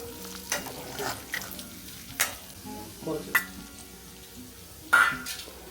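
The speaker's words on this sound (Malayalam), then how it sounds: "ആ തിളച്ച എണ്ണയ്ക്കകത്ത് തന്നെ നമുക്ക് ഇഞ്ചി വെളുത്തുള്ളി ഒക്കെ ഇട്ട് നല്ല പോലെ ഒന്ന് വഴറ്റിയെടുക്കാം" Hot oil sizzles steadily as ginger and garlic fry for a soya chunks dish, with several sharp clinks and scrapes of a utensil stirring the pan at close range.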